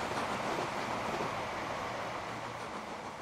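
A train runs along rails in the Transport Fever 2 video game, a steady broadband rumble with faint rhythmic wheel clatter, continuous and moderately loud throughout, no talking.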